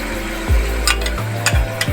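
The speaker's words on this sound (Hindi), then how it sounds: "और ये डालकर इसको अच्छे से हमें फ्राई करना है।" Chicken pieces with ginger garlic paste fry in hot oil and ghee, a close, dense sizzle with a few scraping stirs and clinks over two seconds.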